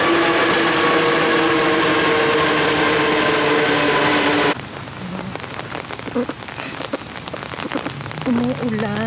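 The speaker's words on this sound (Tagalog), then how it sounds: "umuulan. Hindi masyadong malakas." Light rain patters steadily on surfaces outdoors on a European street, a dense hiss of drops that drops to a softer level midway, with faint passing sounds and some background noise.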